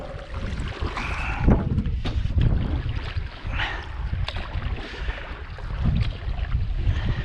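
Gusting wind buffets the microphone while a canoe is paddled on open water near Kingston, Ontario, with irregular water sloshes and paddle splashes close by under the wind noise.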